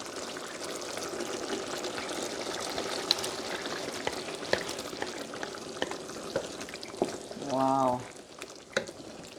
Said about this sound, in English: I'm going to add my shrimp